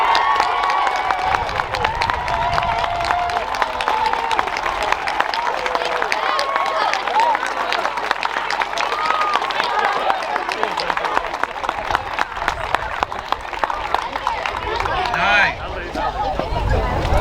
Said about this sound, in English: give a big round of applause and a cheer for the boys and girls